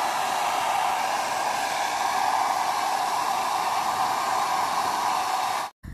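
A Havells HD3151 1600W hair dryer blows a steady, loud whooshing stream of normal-temperature air up close, then cuts off abruptly at the end.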